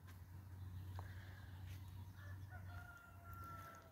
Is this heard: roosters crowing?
yes